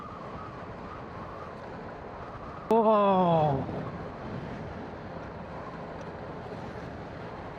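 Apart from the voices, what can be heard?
wind while riding an NMAX motorcycle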